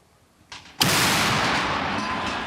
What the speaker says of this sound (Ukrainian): Міномети калібру 120, іспанські, американські, болгарські снаряди